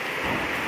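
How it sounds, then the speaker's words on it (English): Heavy rain with thunder, a dense loud hiss of downpour with a low rolling rumble underneath, brief and continuous, with no voices. "These are serious, serious rains you see here."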